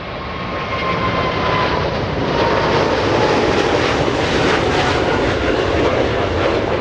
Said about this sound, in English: we have a 747 to keep us company.